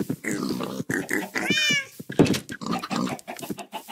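A cat gives a clear, drawn-out meow up close, mixed in with a person talking in Portuguese before and after it, with a brief knock in the middle.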